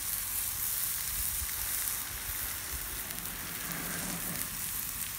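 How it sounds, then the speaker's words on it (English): Wagyu London broil with a chicory rub searing in a hot pan, giving a steady, close, loud crackling sizzle that holds evenly throughout with no talking. "You can hear it sizzling."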